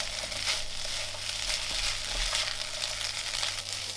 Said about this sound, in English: we can just start mixing this all together and get all the rice coated in that oyster sauce and that extra flavouring